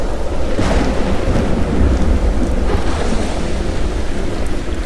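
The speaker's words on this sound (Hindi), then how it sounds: "थोड़ी दूर चलने के बाद मौसम बहुत ज्यादा खराब हो जाता है और बहुत तेज बारिश और तूफान आ जाती है" A heavy thunderstorm with a loud, steady downpour of rain and low rumbling thunder rolls on without a break.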